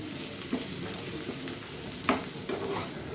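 Ghee added to muri ghonto, a fish-head and rice dish, cooking in a pan: a steady close sizzle with a few faint clicks and a sharper spoon tap, no talk.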